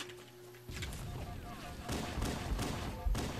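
Sniper rifle shots in the video game Halo CE on the Bloodgulch map at night: several loud cracks and thumps in quick succession over busy game noise, with voices talking.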